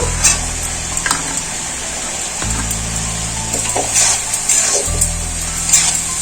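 Chicken salted and browning in a pan with chopped onion added, a steady close sizzle under periodic scraping and stirring strokes, with no talking.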